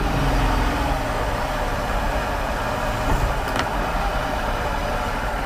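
A small outboard motor idles in a test barrel of water, tuned up to around 1200 RPM beforehand, giving a steady, close, continuous low rumble with a constant drone and no talk.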